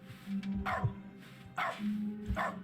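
A dog barks in the video game The Stanley Parable Ultra Deluxe, three short, moderately close barks at even intervals over a low background hum.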